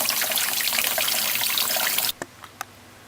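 Tap water runs hard into a pot in a sink to cool it for stewed peas, a loud steady gush for about two seconds before it shuts off, followed by a few faint drips and clinks.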